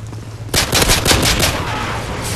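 Rapid automatic gunfire in an online free-for-all shooter game bursts in loud and close after a quiet moment, then rattles on steadily as a dense stream of shots.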